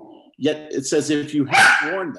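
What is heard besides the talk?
dog barking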